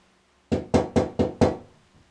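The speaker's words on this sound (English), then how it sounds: "If I tap on this window, can you tap back?" Five quick, sharp taps on glass in an even rhythm, close and clear, followed by quiet.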